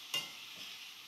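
Bottle gourd curry with green chillies is stirred in a pan over low heat, one soft scrape near the start and then a quiet, steady low sizzle underneath.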